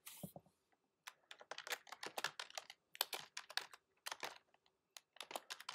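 Fingers type a short title on a Mac keyboard, a quick irregular run of light key clicks with brief pauses, close and quiet, no speech.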